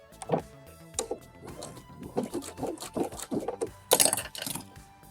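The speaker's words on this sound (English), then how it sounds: "I am adding some back stitches." A sewing machine stitches fabric for wide-leg pants and runs back stitches, making close mechanical whirring bursts and rhythmic needle clatter that start and stop several times.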